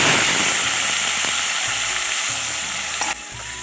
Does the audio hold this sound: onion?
yes